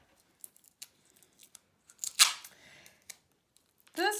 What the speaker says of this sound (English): Add my tape.